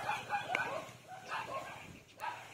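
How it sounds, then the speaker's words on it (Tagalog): Several short dog barks and yips, fairly faint and somewhat distant, scattered irregularly across the moment. "Marami talaga silang mga aso dito mga kabayan."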